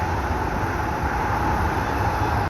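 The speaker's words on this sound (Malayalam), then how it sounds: "ആ പോകുന്ന മെട്രോ അതാ ഇങ്ങനെ പോയിക്കൊണ്ടിരിക്കുകയാണ്" A steady, loud rushing rumble of a Dubai metro train going past, even throughout and cutting off abruptly.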